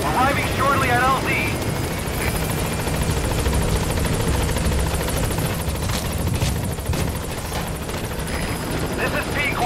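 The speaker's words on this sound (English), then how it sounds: "Support helicopter has arrived." A support helicopter in the video game Metal Gear Solid V arrives at a landing zone, its loud, steady rotor drone filling the whole stretch while radio voices talk over it.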